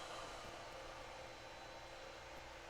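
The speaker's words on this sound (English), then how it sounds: "that's what you hear in the background is the printer going again on this particular build" A 3D printer runs steadily in the background of a workshop, a faint even hiss and whir with no change in level and no talking.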